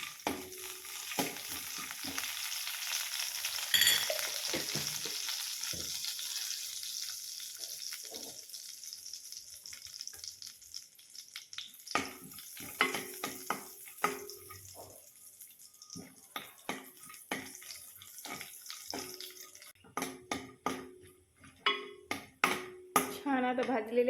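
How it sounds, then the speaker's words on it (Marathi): Cashews and almonds roast in ghee for sweet potato kheer. A steady sizzle runs through, with frequent close scrapes of a spoon against the pan. The stirring gets busier in the second half, and no one speaks. "काजू बदाम टाकते त्याच्यात. हे आपण छान असं भाजून घेऊ तुपात."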